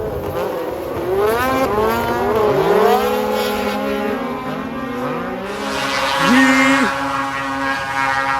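Race cars circle a track at an outdoor event in Northern Michigan, engines rising and falling as they pass and shift, loud and fairly close, with a faint voice in the background.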